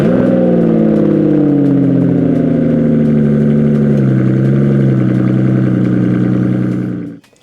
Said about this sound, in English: you're not going to care what speed you're doing with that V12 soundtrack, which you will hear in a minute